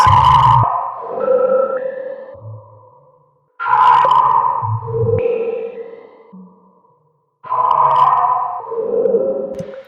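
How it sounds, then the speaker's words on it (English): Spooky processed vocal phrases shaped with a saturator waveshaper, three loud drawn-out wailing bursts with pitch-shifted, echoing tails, each separated by a short silence. "let's add saturator and just pick a different kind of wave shape for this"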